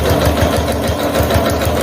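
A sewing machine stitches a bag close to the presser-foot edge, running loud and near with a fast, even mechanical pulsing throughout.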